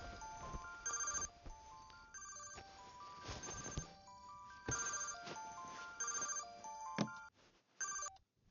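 A phone rings repeatedly in short electronic bursts, fairly faint, with a steady repeating pattern and no talking.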